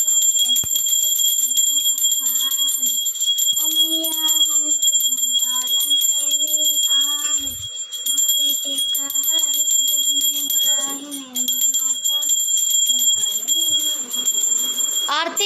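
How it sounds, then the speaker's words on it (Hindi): A small temple bell rings steadily during prayer with a bright, sustained metallic tone throughout, while someone talks and chants over it up close. "घंटी जोर से नहीं बज रही।"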